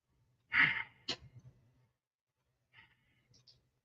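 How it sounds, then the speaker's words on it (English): Deep relaxation breaths during a morning flexibility routine: one strong, close exhale like a sigh, followed by softer breathy puffs and then two faint breaths after a pause. "3 deep relaxation breaths."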